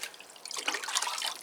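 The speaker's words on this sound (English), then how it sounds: "I'll just give them a good water and get all the roots" Water poured over the roots of potted Cattleya orchids, a soft splashing trickle that swells after a quiet start and continues steadily, close and fairly faint.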